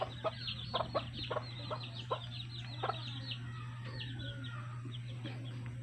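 Chickens cluck in short bursts over a steady low hum, with several quick calls scattered through the first half and quieter fowl chatter after.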